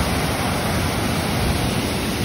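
Small waterfall below a dam in the hills of Kamthe, Chiplun, in the Konkan, pouring with great force: a loud, steady, close roar of rushing water that holds constant throughout, with no voices.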